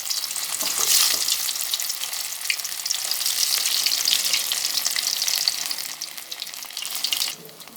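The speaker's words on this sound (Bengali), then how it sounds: "নাস্তাগুলো আমি এপিটোপিট ব্রাউন কালার করে ভেজে নিতেছি এক পাশ হওয়ার পরে অপর পাশ উল্টিয়ে দিতেছি" Potato and bread snacks fry in hot oil with a loud, close, continuous bubbling sizzle that holds steady for several seconds, then eases off near the end as pieces are turned; no voices.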